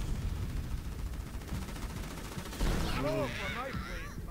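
Rapid crackling bursts of explosions and gunfire from suicide units in the strategy game Halo Wars 2, dense and continuous, with a voice talking over the later part.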